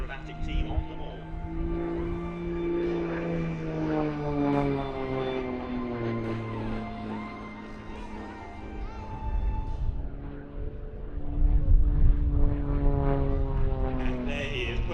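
An Extra 330SC aerobatic aircraft makes a pass at the Shuttleworth Festival of Flight air show, its propeller engine droning steadily with sliding pitch, loudest toward the end, while a commentator talks over it.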